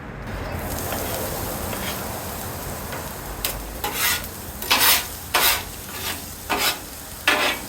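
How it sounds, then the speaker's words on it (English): Onions cooking on a grill: a faint, steady sizzle, then from about three seconds a run of louder scraping strokes, roughly one every second, as the onions are stirred and turned with a utensil. "First I want to grill some onions."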